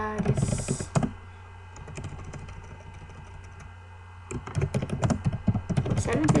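Typing on a computer keyboard, rapid irregular key clicks in bursts at the start and end with a quieter stretch between, with someone speaking Portuguese over parts of it.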